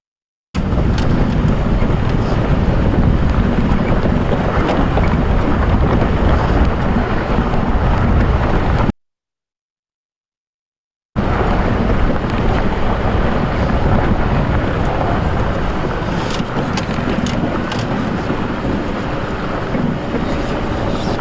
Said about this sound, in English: Quite a windy day, which is fairly typical when it's quite hot like this in winter